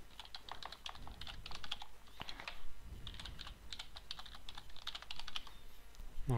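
A password is typed on a computer keyboard in quick, irregular bursts of crisp, close key clicks with brief pauses, fairly quiet and without talk.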